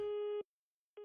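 Steady electronic phone tone in a horror video game, a flat buzzing beep lasting under half a second, then silence, then the tone starting again, clear and alone.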